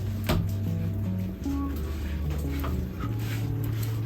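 A dog whimpering in a room, thin whining tones rising and falling over a constant loud background hum, the cries close and repeated.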